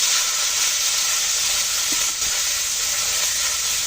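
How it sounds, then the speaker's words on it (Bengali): Small chanda fish frying in hot oil in a wok, a steady, close, loud sizzle that holds evenly throughout with no voices. "আমি এখন মাছগুলো আগে একটু ভেজে নেব।"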